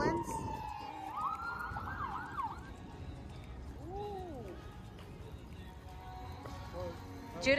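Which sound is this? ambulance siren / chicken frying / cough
ambulance siren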